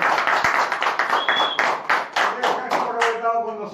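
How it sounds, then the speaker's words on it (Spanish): Audience applause for a guest on a Spanish-language show, brisk clapping from a small group with voices mixed in underneath. "aplauso a ti"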